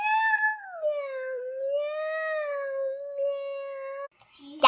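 A human voice imitates a cat with one long, drawn-out, wavering meow that rises and falls in pitch, followed by a brief clipped sound.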